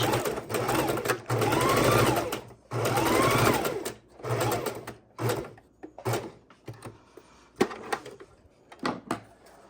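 A sewing machine runs a long stitch down the side of a textured paper tag in several close bursts, each a few seconds long, separated by short pauses and quieter handling noises near the end.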